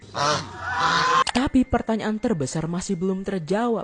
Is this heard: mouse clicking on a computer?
no